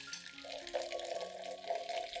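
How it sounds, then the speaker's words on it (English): Hot water pours into a clean glass jar over ground coffee, a continuous close trickling splash whose pitch rises slightly as the jar fills. "Then add 500 milliliters of hot water."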